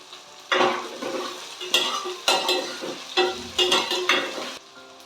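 A handful of curry leaves hits hot oil in a pan for a Tamil fish curry, giving bursts of sharp crackling sizzle alongside several scraping stirs of a spoon, close and fairly loud, without speech.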